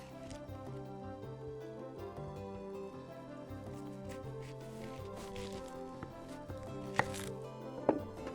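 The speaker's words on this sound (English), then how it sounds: "we are going to chop up a red onion" A small red onion being chopped on a board, a steady run of close, soft knife taps with a couple of sharper knocks near the end, alone with no talking.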